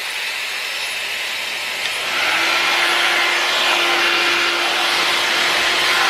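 Hot air brush hair dryer running steadily, a loud continuous whooshing blow that steps up slightly in intensity partway through, with a faint high motor whine.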